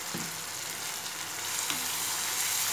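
Pasta sizzles steadily in a hot pan as soy sauce goes in, giving a loud, continuous hiss with a brief splash and a faint clink.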